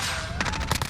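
An MP5/10 chambered in 10mm auto fires in Call of Duty Modern Warfare. It lets out a quick burst of rapid, sharp shots in under a second, loud and close, over a steady game background hum.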